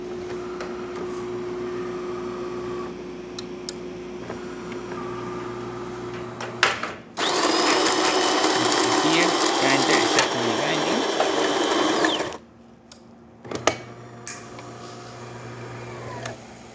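A De'Longhi Magnifica coffee machine with a newly replaced grinder grinds beans in a loud, steady burst of about five seconds that stops abruptly, framed by quieter machine hum and clicks before and after.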